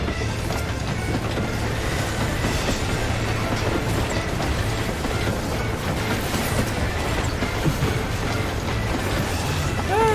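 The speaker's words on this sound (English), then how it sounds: "Train's pulling up beside us." A train in Final Fantasy XIV: Stormblood pulls up alongside, a loud, steady rumble with rhythmic clickety-clack of wheels on rails continuing for about ten seconds without talking.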